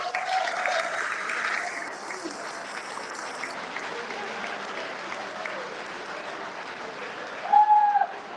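Audience applause for the first-place male winner at the Melbourne Firefighter Stair Climb 2024 presentations: loud clapping at first that thins to lighter scattered clapping, with a brief tone near the end.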